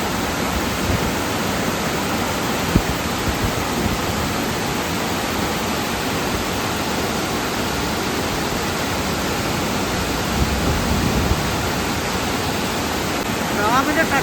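Water rushing out through the open middle shutter of Ponmudi dam, a loud, unbroken broadband roar that holds steady and close throughout.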